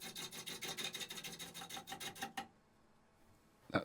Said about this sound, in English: That's my chisel bouncing off a nice, perfectly smooth little pebble.